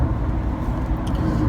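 Steady, close low rumble of a car driving along a road, heard from inside the cabin as an even engine and tyre drone with no talking.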